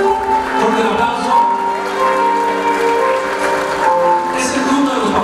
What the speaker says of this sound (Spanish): Fuerte el aplauso, que se escuche para recibir hoy a los papás del Jorge.